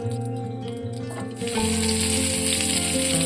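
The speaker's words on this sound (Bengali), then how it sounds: "এবার পুর ভরা পটলগুলো এক এক করে ভেজে নেব" After a moment of faint background music, a loud, steady hiss of stuffed pointed gourds frying in hot oil suddenly starts and keeps going.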